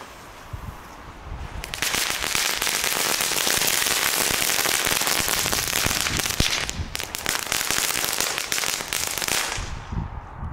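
A dense, continuous barrage of crackling Belgian firework bursts and pops runs loud for several seconds, then tapers off, with no talking.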